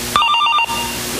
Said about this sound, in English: I gotta go, I got another call coming in